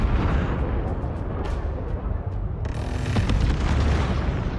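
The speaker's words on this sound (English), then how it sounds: "Hull defense guns are active and engaging targets." Hull defense guns on the mothership in Homeworld 3 fire in a sustained barrage of booming, rumbling blasts with sharper cracking shots, loud and continuous throughout.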